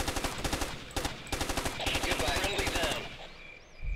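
Rapid automatic gunfire from the video game Ghost Recon rattles in fast bursts with brief pauses and fades out near the end, loud and dense, while a player speaks now and then over it.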